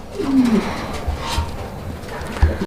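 Fancy pigeons coo close by in a short, low, throaty call early on, followed by soft rustling and a few dull knocks.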